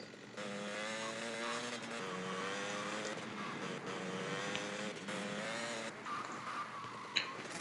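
Car engine in GTA Vice City revs hard and accelerates, a loud continuous harmonic whine rising and shifting in steps across the whole stretch, with a brief sharp knock near the end.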